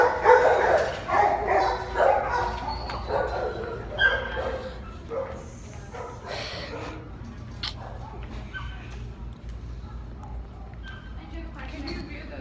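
Dogs barking and yipping in the distance, an outdoor kennel or shelter setting, with several people talking over them through the first few seconds before the barks thin out.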